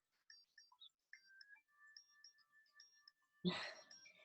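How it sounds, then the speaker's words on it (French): A phone ringtone plays faintly during a gym class: a thin electronic melody of short chirps and sustained steady tones, followed by a sudden louder rustling burst near the end. "ma petite sonnerie sonne"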